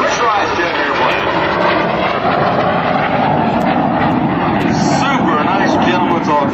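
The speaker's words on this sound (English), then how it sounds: "Don comes to a nice photo pass for his L-29 Delphin aircraft." An L-29 Delphin two-seat pressurized jet trainer makes a photo pass at an airshow, its engine roar steady and loud throughout with broad rushing noise and crowd chatter mixed underneath.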